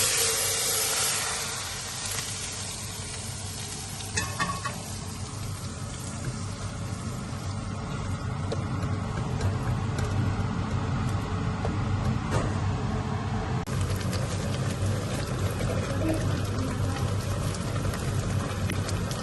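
Browned garlic tempering is poured into masoor dal with a loud hiss and sizzle that swells and then settles into a continuous crackling simmer.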